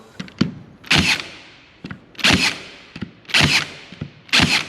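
A 23-gauge pin nailer fires into a pine 2x4 in four evenly spaced sharp pneumatic snaps, each with a short hissing burst, close and loud with no talking.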